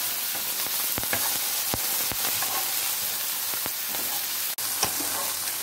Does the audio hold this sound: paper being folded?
no